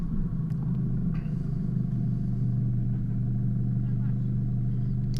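A 4WD vehicle crawls along a forest track with its wheels in the ruts, a steady low engine rumble and drone throughout, with a few faint knocks and creaks.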